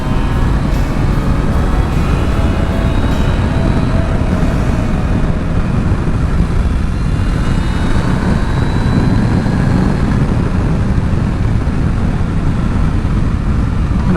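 A 1998 Yamaha YZF R1 inline-four sport motorcycle engine running while being ridden, a loud steady drone with rushing wind noise, held at a fairly constant pitch throughout.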